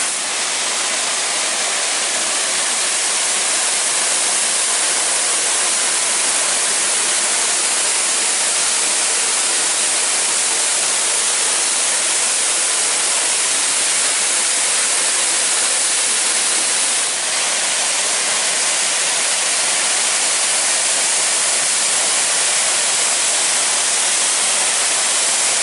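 Tunnel Falls on Oregon's Eagle Creek Trail pours in a loud, steady, broadband roar of falling water, close and unbroken throughout with no voices.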